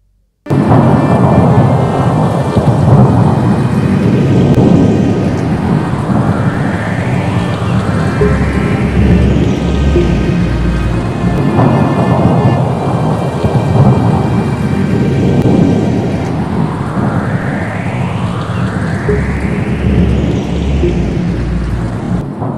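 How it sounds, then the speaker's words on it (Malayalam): Loud, dense heavy rain pours without pause, with deep rolling thunder rumbling repeatedly underneath and sweeping gusts rising and falling over the downpour. "കാലത്ത് ഇങ്ങനെ ഇടയ്ക്ക് മഴയൊക്കെ പെയ്യും, അതത്ര വലിയ സംഭവമൊന്നുമല്ല"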